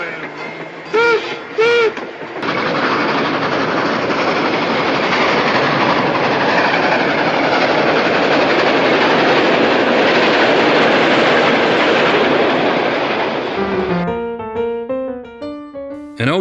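The Durango and Silverton narrow gauge train runs with a steady, loud rumble and rhythmic clatter of wheels on track, preceded by brief whistle-like tones and followed by tonal music as the noise fades.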